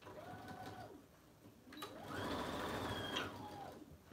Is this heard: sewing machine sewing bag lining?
yes